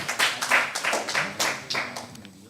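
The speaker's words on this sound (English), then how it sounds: "we give applause to her" A small audience at a customs paper-presentation session claps after a talk, with a sparse, uneven patter of individual hand claps that is close and distinct, lasting a couple of seconds before dying out.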